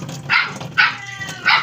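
A pet dog barks three times, loud and close, in evenly spaced bursts with nothing else around.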